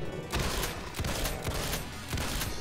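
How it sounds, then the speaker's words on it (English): Rapid gunfire from the video game Doom II, with dense overlapping shots coming in quick bursts throughout, loud and close. "I'm missing all of my shots."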